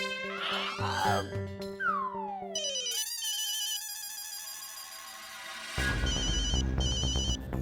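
A phone ringtone plays loudly: a sliding electronic tone, then a repeating bright melodic ring, with a musical sting near the end.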